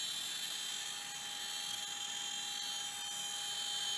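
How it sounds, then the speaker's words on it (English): A CNC router running slowly as it cuts a wooden surfboard-shaped cheeseboard: a steady, high, piercing whine over broad hissing noise, constant and fairly close for the whole stretch, with no talk. "Actually, I have the router go super slow to avoid any tears."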